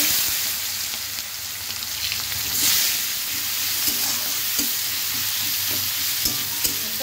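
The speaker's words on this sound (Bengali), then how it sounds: "তাহলে পেঁয়াজ কুচি দিচ্ছি" Chopped onions fry in hot oil in a pan, a steady close, loud sizzle with soft stirring knocks throughout; no one speaks.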